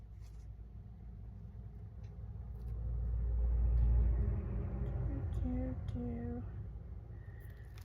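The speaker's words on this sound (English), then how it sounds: "so that's the road noise you hear." Heavy trucks on a nearby country highway produce a low rumbling road noise that swells as a vehicle passes and then fades, steady and moderately distant, with brief tonal sounds and a voice speaking over it.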